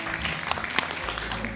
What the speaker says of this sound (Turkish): Bravo ellerine bir alkış o zaman.